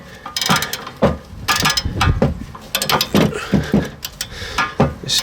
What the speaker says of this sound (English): This ratchet's a bit long,